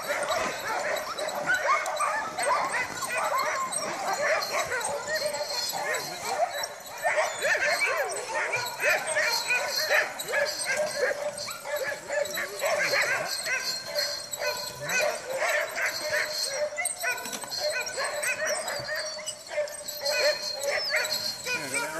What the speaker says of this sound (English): the dogs, oh my god, they so want to go